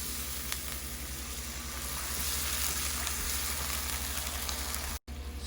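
Garlic, onion and spices frying in a pan, giving a steady, close hiss and crackle that holds evenly for several seconds before a brief cut near the end.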